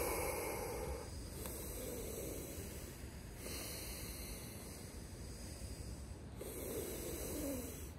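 Slow, deep breaths drawn in and let out, soft airy whooshes rising and falling in long cycles at close range, with a quiet background hiss.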